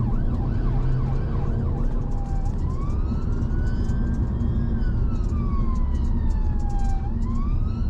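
A UK ambulance siren during a chase, loud and close, its wailing tone sweeping slowly up and down over steady traffic and road noise, with no talk.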